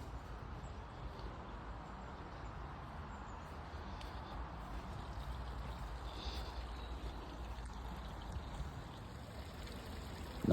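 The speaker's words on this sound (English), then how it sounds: "Nice just sitting here, listening to the waterfall." A waterfall rushes as a faint, steady broadband wash of falling water, continuous and unbroken throughout, heard from a distance with no talk.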